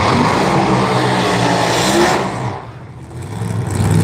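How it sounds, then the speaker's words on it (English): Local drag racing machine roaring at full throttle down the strip at a live racing event, a loud continuous engine howl that dips briefly then surges again. "a couple of local machines making their way down the strip and having a good time"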